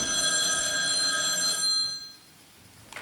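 A telephone bell rings loudly in one sustained burst, then cuts off, leaving a quiet room with a faint click at the end.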